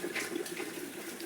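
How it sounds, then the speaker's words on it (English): A tap pours water into a container in a steady hissing splash, continuous and close, outdoors in a rainy village. "We are filling water here."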